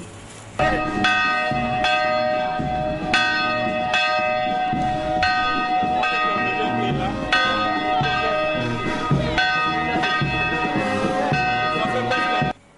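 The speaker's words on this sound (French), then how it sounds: "la sonnette de la cloche de l'église Sainte-Thérèse de l'Enfant Jésus pour alerter davantage les fidèles de Mbatambenge" Church bell of Sainte-Thérèse de l'Enfant Jésus church in Mbatambenge ringing for the faithful, repeated loud clanging strikes with a long ringing hum between them, steady throughout with no talk.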